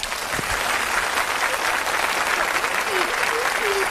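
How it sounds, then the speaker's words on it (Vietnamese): An audience at a comedy stage show breaks into sustained, even applause, many hands clapping at once, while a voice speaks faintly underneath toward the end. "Xin quý vị cho một tràng pháo tay."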